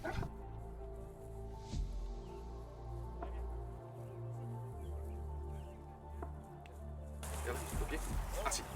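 A dog barks a few times amid rural yard sounds at a French animal setting, with people talking nearby and other animal noises in the background.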